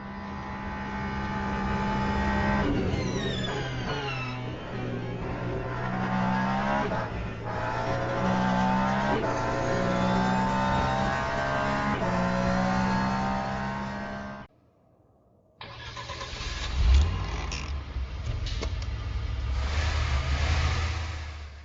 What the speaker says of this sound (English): this gorgeous racing sim puts players in the driving seat of an amazing international competition